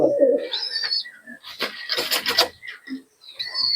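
Pigeons cooing at a pigeon sale in Murshidabad, soft repeated coos and calls close by, mixed with handling rustle and background chatter.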